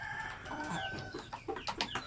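A native Basilan and Zamboanga rooster clucks and calls repeatedly, fairly close, with a few short throaty bursts toward the end.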